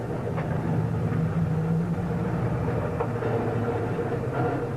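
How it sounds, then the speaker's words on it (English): A 1987 Pennsylvania shortline train with an SW1 switcher locomotive at Buckingham Valley Station, a steady low diesel rumble and rolling rail noise, fairly loud and continuous with faint clanks, no talk. "Here you may detrain as the SW1 goes around the train to recouple and take us back to New Hope."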